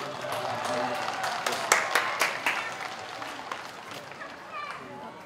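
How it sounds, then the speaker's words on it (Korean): A crowd applauds at a church sports day awards ceremony, a dense patter of many hands clapping steadily with a few sharper claps standing out, fading slightly toward the end. "회장 신기환 장로 박수를 쳐주시기 바랍니다."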